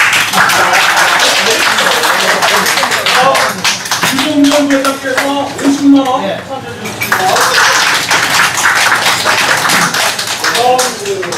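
Group clapping at a business association gathering breaks out in bursts between a man's announcements over a microphone, with scattered claps and clatter around the talk.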